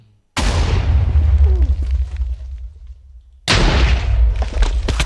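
A sudden loud video game explosion bursts in, rumbles and fades, then a second heavy blast hits near the end, both deep and powerful.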